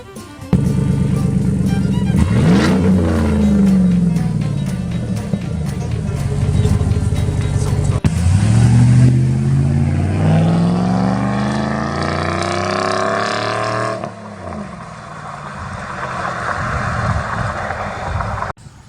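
A truck with a newly welded straight-piped exhaust, loud and close, revving repeatedly with deep rising and falling sweeps of engine pitch, then easing back to a rough idle before picking up again.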